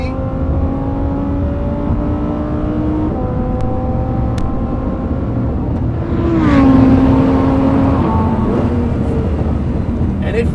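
Engine note of a Lamborghini Huracan STO on a road, a steady loud droning tone that rises in pitch as it revs up partway through, with the car's sound swelling before settling.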